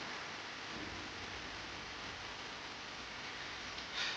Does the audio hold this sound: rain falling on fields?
yes